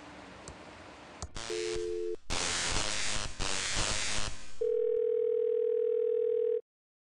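A telephone in the video game Thimbleweed Park produces short electronic tones, bursts of static-like noise, and then a steady dial tone that holds for about two seconds before cutting off abruptly.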